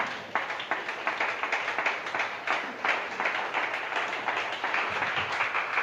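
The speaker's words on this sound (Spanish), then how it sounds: "dándole un fuerte aplauso al Señor Jesucristo" A church congregation claps for Jesus Christ during a sermon, a moderate, steady patter of many hands with a few sharper claps standing out.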